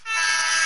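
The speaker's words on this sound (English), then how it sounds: "Train." A train horn blares in a steady, sustained tone lasting under a second, loud and close, with no voices.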